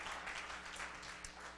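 Congregation applause during a church service, a steady wash of many hands clapping at moderate distance with no voices over it.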